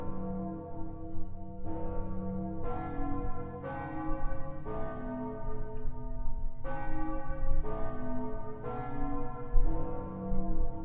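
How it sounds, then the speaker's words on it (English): Church bells ring in the video game Red Reaper, a loud peal of several bells striking one after another in a steady, evenly spaced sequence with rich ringing overtones that linger between strikes. "That's a lot of bells."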